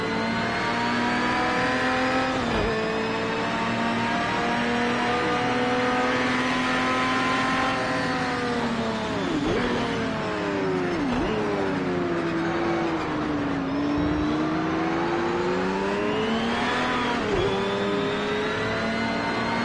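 A Lamborghini Diablo GTR with a 6-litre V12 races in the Project Cars 2 video game, its engine droning loudly and continuously, rising and falling in pitch through repeated upshifts, downshifts and acceleration.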